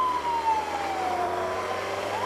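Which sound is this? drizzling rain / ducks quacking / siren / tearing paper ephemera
siren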